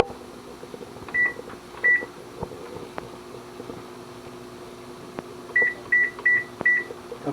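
Kitchen timer set for twenty minutes while fish soup is being made: two separate sharp beeps, then a quick run of four evenly spaced beeps, against a low steady kitchen hum.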